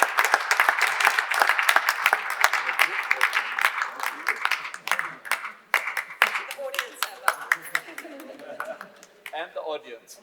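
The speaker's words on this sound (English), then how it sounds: "Warm applause to everybody that did all the hard work." Conference audience applauding, the clapping dense at first and thinning out toward the end, with voices talking over the last seconds.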